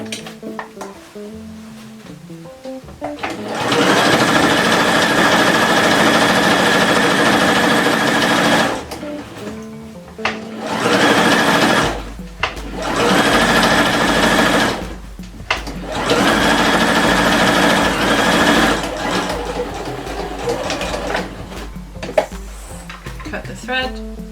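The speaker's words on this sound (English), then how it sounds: "Pop it into the sewing machine." A sewing machine stitches bias tape in place along the edge of a big, boxy dress, running in several loud, steady bursts with short pauses between them as the fabric is guided.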